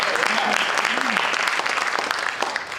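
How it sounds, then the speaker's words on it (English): An audience at a live outdoor community show gives a big round of applause, a steady wash of clapping lasting a few seconds with a faint voice underneath. "Let's give them a big round of applause."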